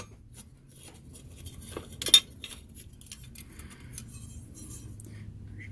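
A metal burner plate is lifted off a Coleman 502 stove, giving a quick, sharp metallic clink near the middle, surrounded by quiet handling rattles and faint scraping.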